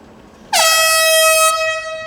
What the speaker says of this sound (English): Horn sounds